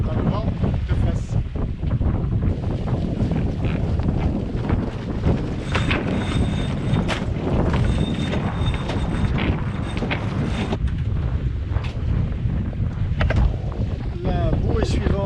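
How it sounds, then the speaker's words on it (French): A sailboat tacks up a channel into a headwind, with heavy wind buffeting the microphone, water rushing along the hull and occasional rigging rattles, loud and continuous; someone talks at times. "Là on tire des bords dans le chenal"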